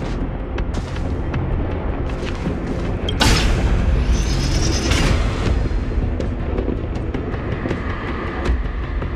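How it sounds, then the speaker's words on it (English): A mechanism switching on in the video game Honkai Star Rail, a sudden deep booming surge with a bright rising whoosh that swells midway over a dense, steady bed of game ambience and music. "Did you hear that? This mechanism must be on now."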